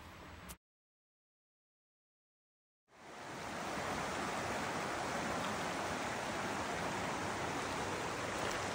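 A mountain stream north of Mount Hood, near Breitenbush hot springs, rushes in a steady, broad wash of water noise after a brief break of silence near the start.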